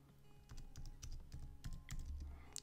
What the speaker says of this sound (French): Et là, je tape un mot de passe.